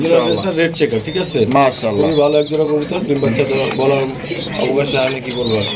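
Pigeons coo in overlapping low, throaty calls, close and continuous, with people talking over them throughout.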